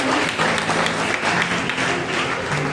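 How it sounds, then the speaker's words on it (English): A church fellowship congregation at a New Year prayer meeting claps for an 82-year-old attendee, a full, continuous wash of applause with a faint hum beneath. "Wow, we should clap for her."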